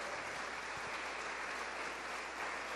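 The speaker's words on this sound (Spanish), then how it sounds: "dele fuertes palmas al Señor" A church congregation claps together in a steady, even wash of applause, faint and distant, with no voices over it.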